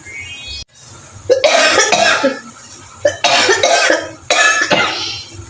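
Several harsh, close coughing fits in a row, with short pauses between the bursts.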